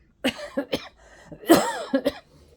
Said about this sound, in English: See, still got a little bit of a cough.